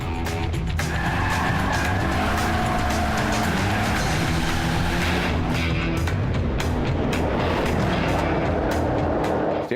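A Mercedes E63 AMG drifting on a racetrack in its drift mode, engine roaring loud and continuous while the tyres squeal and skid through the slide, with sharp popping bursts breaking through the steady noise.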